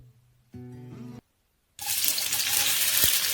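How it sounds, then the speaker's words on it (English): Oil poured into a heated pan on the stove, a brief sound followed by a loud, steady sizzle that rises and holds close by. "So the pan is heated up, now adding oil in it."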